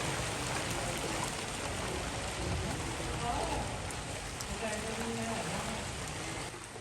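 Heavy rain falls in the open with a continuous, dense hiss that stays level for the whole stretch, fairly faint overall, while sunshine breaks through the downpour.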